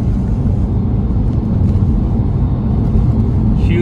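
A Porsche 997 Carrera base model with DSC Sport active suspension drives along, its engine and road noise forming a steady, loud low rumble throughout with no speech.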